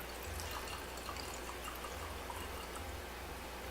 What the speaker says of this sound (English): it's just supposed to pour right out